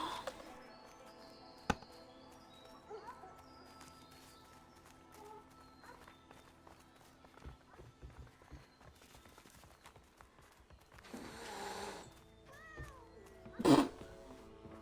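A single short cat meow in the video game A Way Out rings out near the end, after a stretch of quiet clicks, thuds and faint game ambience with no talking.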